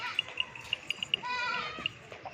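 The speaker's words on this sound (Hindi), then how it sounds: "और ये बकरी है और ये साथ में बच्चे जा रहे हैं" A goat, with kids walking alongside, gives a short run of sharp, close bleats mixed with soft rustling in an outdoor livestock setting.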